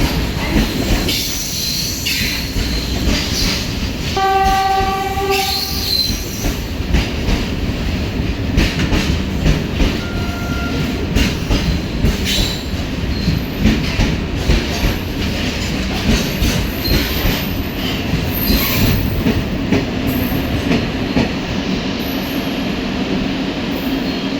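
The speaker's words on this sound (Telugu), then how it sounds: "ట్రైన్ కర్నూలు స్టేషన్ నుంచి ఇది డిపార్ట్ అవుతుంది" A Kacheguda–Yesvantpur train pulls out of Kurnool City railway station, with a steady rumble, rattling wagons and clattering wheels, plus brief squealing tones early on, sustained and loud throughout.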